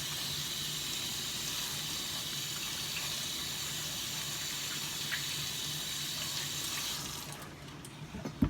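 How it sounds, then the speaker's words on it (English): Corn being washed under a running kitchen tap while chicken soup is made: a steady, close rush of water pours continuously, easing off near the end with a small clatter. "we're just repeating the same step by washing the corn"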